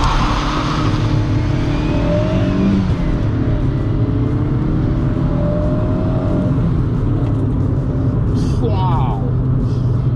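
A non-turbo Fiat Uno pulls hard along a road, its engine droning loud and steady from inside the car with rising revs throughout.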